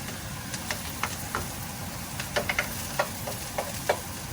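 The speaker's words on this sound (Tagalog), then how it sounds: "luto-lutuin lang natin yung sibuyas ng konti" Onion sautés in a pan while a ladle stirs it: a quiet, steady sizzle broken by light, intermittent scraping taps of the ladle against the pan.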